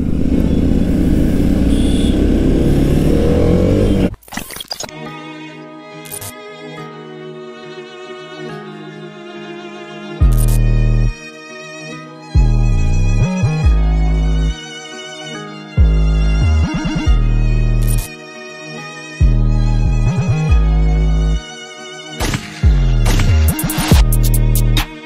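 A BMW G310RR motorcycle that has had its first service fires its exhaust in repeated loud, close revving bursts, with quiet idle gaps between them, after a few seconds of rough rustling noise at the start.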